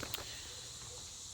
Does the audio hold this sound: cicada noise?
yes